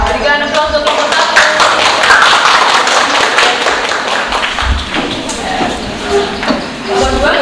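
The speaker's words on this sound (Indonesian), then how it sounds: "Berikan aplaus untuk kelompok satu." Applause for the first student group at a university teaching-practice class session, a dense steady clatter of many hands clapping throughout, fairly loud with murmured voices mixed in.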